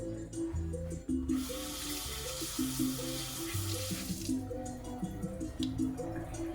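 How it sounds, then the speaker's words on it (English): A cucumber is rinsed under running tap water at a sink, a steady, close splashing stream that swells in the middle of the clip and then eases, heard alone over a background of sustained musical tones. "So I'm going to rinse it off."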